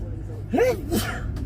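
A single sneeze, fairly close, with a quick rising burst and a short tail over steady background noise.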